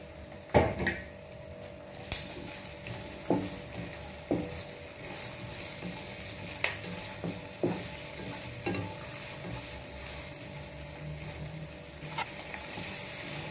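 Chicken and onion fry in a pan with ginger and garlic, a low steady sizzle broken by repeated sharp scrapes and clinks of a spoon stirring against the metal, close and fairly quiet, with no talk.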